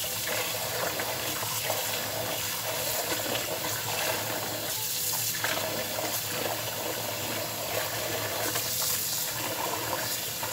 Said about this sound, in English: right now I'm just going to rinse it off,